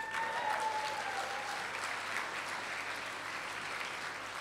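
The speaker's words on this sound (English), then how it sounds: "I accept that round of applause on behalf of the Irish people" Audience applause after an ambassador's speech at a St Patrick's ball in Kuala Lumpur, a steady sustained round of clapping from a large indoor crowd, fairly soft and even throughout.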